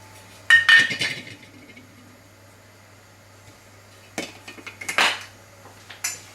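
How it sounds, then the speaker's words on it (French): Dishes and cutlery clink in a few short bursts while crumble ingredients of flour, sugar and butter are mixed in a bowl, with quiet gaps between the clusters and a steady low hum underneath. "Now you just need to mix everything together."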